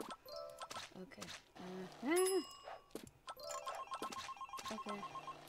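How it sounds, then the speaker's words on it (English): A telephone in the video game Delicious: Emily's Tea Garden rings with short electronic tones among quick game chimes and pops, with a person talking intermittently. "Answer the phone!"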